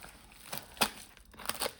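A USPS box package cut open with a knife, giving a few faint close crinkling and tearing scrapes of cardboard and tape in short bursts.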